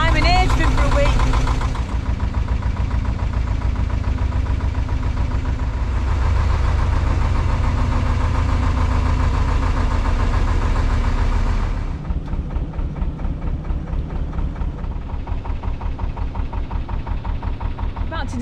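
Canal narrowboat engine running steadily on the Ashton Canal approaching Manchester, a continuous low knocking diesel idle throughout, loud and close, with a voice talking over it at times.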